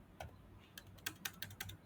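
Typing on a computer keyboard while operating an AI-driven web operating system, heard as a quick, irregular run of close, crisp key clicks over faint background hum.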